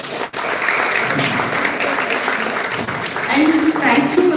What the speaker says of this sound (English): Let's give a round of applause to the whole entire team, IGBC core committee as well as the students.